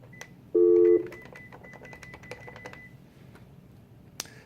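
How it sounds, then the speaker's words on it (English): On an office desk phone system, a loud burst of keypad dialing tones sounds, followed by a string of faint, quick key clicks and beeps in a quiet room, with one sharp click near the end. "They can go to any phone in the entire district, press that same park button, and dial their extension and pick the call up."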